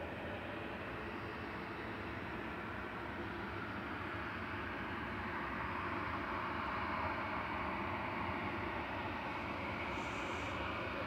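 A Ryanair airliner departs Manchester Airport for Fuerteventura, its steady broadband jet roar holding distant and even throughout, swelling slightly toward the end with no voices over it.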